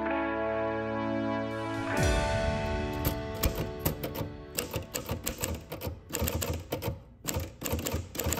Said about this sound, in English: I like the sound the typewriter key makes when it smacks the black ribbon